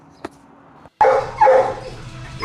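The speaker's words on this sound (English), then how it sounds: "Good looking dog, Spanker." Dog at a crowded animal shelter barking in a few loud, close bursts after a quiet start, with harsh noisy energy and no talk over it.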